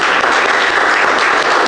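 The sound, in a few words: church congregation applause for Jesus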